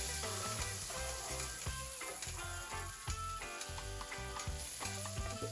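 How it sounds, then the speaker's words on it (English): Seasoning sautéing in a pan for Jamaican coconut steamed fish, a busy close sizzle with repeated stirring scrapes and clicks running throughout, no talking. "I like to have my seasoning a little bit sauteed first."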